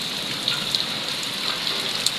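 Heavy storm rain pours outside a house, a steady dense hiss of downpour with faint scattered drop impacts, loud and continuous without pause.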